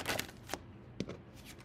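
Tarot cards are shuffled and handled in a few quick, soft papery riffles and taps, close and fairly quiet, with short gaps between the bursts.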